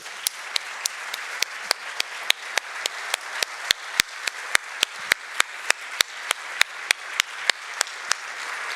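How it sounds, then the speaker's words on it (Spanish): Slow, sparse clapping from a small audience at a research dialogue event, individual claps ringing out in a steady rhythm for several seconds with no talking. "Yo creo que se merece un aplauso."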